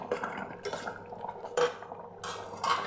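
Two eggs stirred into a thick masala curry in a pan, a spoon scraping and knocking against the metal in irregular bursts, fairly quiet, no talking.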